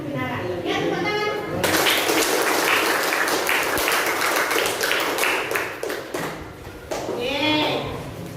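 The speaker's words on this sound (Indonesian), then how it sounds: "Ya, tepuk tangan." A classroom of students claps together for several seconds during a teacher-training lesson, the dense, loud applause swelling then fading, with a teacher's voice speaking before and after.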